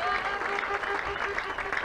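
A crowd at a church crusade claps steadily and loudly in a continuous burst of applause, with voices mixed into the clapping.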